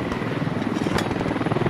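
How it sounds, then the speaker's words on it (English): An MI-17 helicopter in the video game Squad produces a steady, loud rotor drone with a rapid pulsing chop that holds throughout the brief moment, with no voices over it. "MI-17. MashaAllah. Oh, destroy ho gaya."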